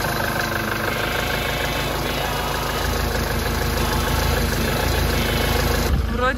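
A motorhome's diesel engine running at idle, a steady loud rumble with knocking character that holds throughout, with a brief shift in sound near the end and no speech over it.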